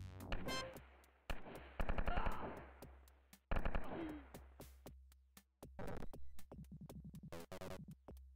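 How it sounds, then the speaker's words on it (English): Rapid bursts of chain gun fire from a Wolfenstein 3D mod, loud and close, in several separate volleys with short pauses between them. "That chain gun sound comes from the Lost episode"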